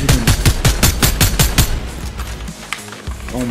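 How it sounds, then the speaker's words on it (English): A laser gun in the Fortnite video game fires a rapid, evenly spaced burst of about a dozen loud shots, then tails off into fainter scattered blasts. "laser gun"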